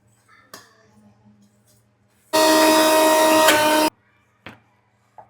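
An electric kitchen mixer grinds a cooled spice mixture finely for patwadi rassa. It gives one loud, steady whirring burst of about a second and a half, with quiet kitchen sounds before and after.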